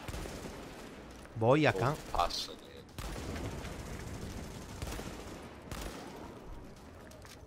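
Gunfire in Tom Clancy's The Division, a short burst of shots early on amid game noise and a steady background rumble, with a voice briefly speaking.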